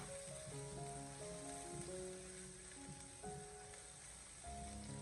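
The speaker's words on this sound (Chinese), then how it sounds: "先下翘的蒜末还有小米辣，开小火慢慢的煸炒一下，先把小料慢慢的炒出香味" Minced garlic and bird's-eye chili stir-fry slowly over low heat in a wok, making a soft, steady sizzle that runs throughout at low volume beneath background music.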